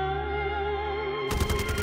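A burst of rapid gunshots from Modern Warfare 3 breaks in sharply after a steady tonal hum and continues as close, loud repeated cracks.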